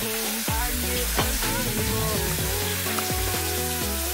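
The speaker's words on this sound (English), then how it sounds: "We're just gonna stir the sauce" Orange chicken sauce is stirred in a hot pan, a steady sizzle broken by repeated spoon scrapes and light clinks against the metal, close up.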